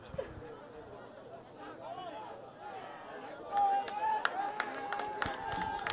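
The Medford crowd at a boys' high school soccer quarterfinal makes a low hubbub of chatter that swells into scattered clapping and shouts. A commentator's voice talks over it the whole time.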